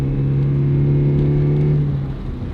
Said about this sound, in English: now we'll try the acceleration